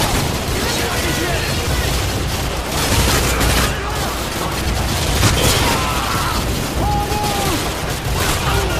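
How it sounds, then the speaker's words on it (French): Heavy gunfire from a school building in the war game Call of Duty Modern Warfare 2, a dense continuous barrage of shots and booms with rumbling low end, loud and sustained, with voices mixed in. "On essuie des tirs nourris depuis l'école."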